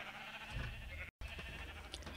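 Game sheep, a crowd of about 240 held in small pens in a collision performance test, give overlapping bleats through a steady noisy wash, with a brief dropout in the middle.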